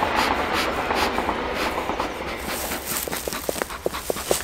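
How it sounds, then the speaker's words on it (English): A train rumbles past close by, a steady roar giving way to rhythmic clickety-clack of wheels over rail joints. "Train just going by."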